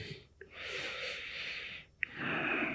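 Slow, quiet breaths during a guided relaxation exercise, two long soft exhalations separated by brief pauses, with a sharper intake near the end and no talking over them.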